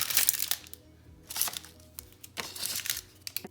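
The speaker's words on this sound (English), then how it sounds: "I'm going to cut up 1/3 cup of onions." A knife chopping onions on a cutting board: several crisp crunching cuts in an uneven rhythm, close and fairly quiet, with brief pauses between strokes.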